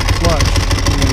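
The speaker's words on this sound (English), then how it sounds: "this one here idling, you can hear the rattle." A classic motorcycle idles up close at a vintage motorcycle festival at Willow Springs, its steady engine pulse carrying an audible mechanical rattle, with a voice speaking over it.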